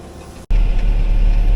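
A tractor pulling a Lemken plough through wet field soil, a steady loud low engine drone heard from inside the cab after a brief cut, with no talk.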